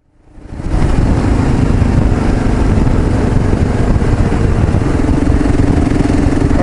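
A 2015 Kawasaki KLR 650 single-cylinder motorcycle starts up and settles into a steady, loud, close running rumble that holds without a break.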